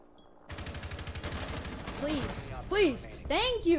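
Rapid bursts of video game gunfire crackle in quick succession through a multiplayer shooter match, with a player's voice talking over the shots.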